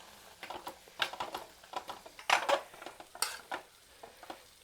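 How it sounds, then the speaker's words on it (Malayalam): Ground paste being stirred into aviyal, a Kerala mixed-vegetable dish, in a pot, with close, irregular scraping and clinking strokes in uneven bursts. "നമുക്ക് അവിയലിനെ അരപ്പങ്ങോട്ട് ചേർത്ത് കൊടുക്കാം"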